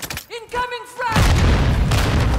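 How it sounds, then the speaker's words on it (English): A heavy airstrike explosion in Call of Duty: Modern Warfare II lands with a loud deep boom and rolling rumble right after a short burst of voice, then sustains as a low roar. "Hostile airstrike near your location"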